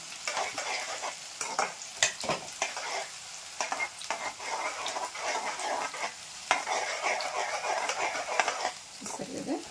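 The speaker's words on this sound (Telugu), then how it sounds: "ఇలా నీట్గా మనకైతే మంచి కలర్ వచ్చేంత వరకు వేగాలండి" Onions with green chillies sizzle and crackle steadily in a hot pan for a chicken fry, with frequent stirring scrapes and clinks, close up and continuous for the whole stretch.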